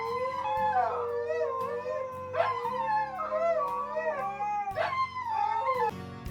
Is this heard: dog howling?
yes